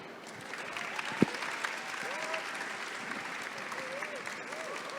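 Crowd applause for poets at a book fair, steady clapping throughout with a sharp knock partway in and faint voices and whoops rising above the claps.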